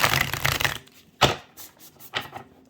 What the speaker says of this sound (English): I'm going to try to shuffle again one more time just to clear out some of the energy here